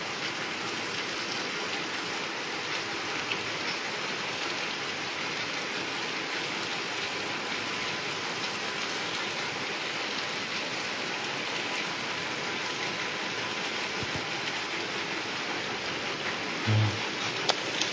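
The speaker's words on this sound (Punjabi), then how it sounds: "ਸ਼ੁਰੂ ਹੋ ਗਿਆ ਸਾਰਾ ਸ਼ੁਰੂਆਤ ਹੋ ਗਈ ਮੌਨਸੂਨ ਦੀ" Steady first monsoon rain falls on a Malwa village in Punjab, an unbroken hissing patter that holds level throughout with only a faint knock or two near the end.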